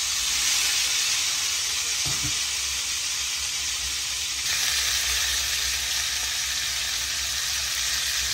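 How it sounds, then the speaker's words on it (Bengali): Onions fry in a hot pan with cumin seeds tempered in oil for a Bengali fish curry, producing a continuous close sizzle that grows slightly louder partway through, with brief stirring sounds and no talking. "পেঁয়াজগুলো ভাজা করে নিচ্ছে।"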